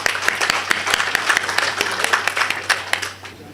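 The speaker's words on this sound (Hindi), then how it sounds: "ज़ोरदार तालियाँ।" Audience applause welcomes a poet at a ghazal recital at the Ghalib Institute in New Delhi: steady, moderately loud clapping with crisp individual hand claps throughout, tapering slightly at the end.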